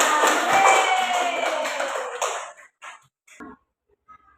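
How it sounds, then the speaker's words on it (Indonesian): Elementary school pupils clapping hands together in a classroom, a loud burst of many small hands that fades out after about two seconds, followed by a few scattered short sounds and near silence. "Kita kasih tepuk tangan."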